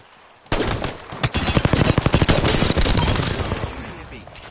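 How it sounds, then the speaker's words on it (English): Enemy gunfire in Apex Legends rattles out as a loud, close burst of rapid automatic shots after a brief quiet start, tapering off toward the end. "The enemies are shooting at me."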